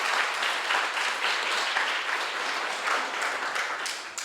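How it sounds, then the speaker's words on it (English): An audience at a student startup pitch competition in Prague claps for the presenting team, a lively, even wash of many hands that stays strong throughout and dips slightly at the very end. "let's give a big round of applause for EuroTeQ Colliders"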